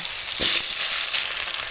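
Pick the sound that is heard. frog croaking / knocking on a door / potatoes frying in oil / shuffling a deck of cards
potatoes frying in oil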